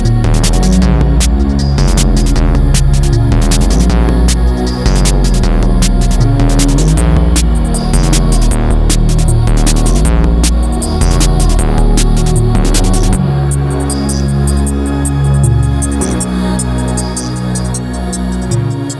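Roland Cloud's version of the CR-78 drum machine plays a steady, loud rhythmic pattern over MIDI, with the kick drum tuned live to carry a bass line and dense repeating hits throughout.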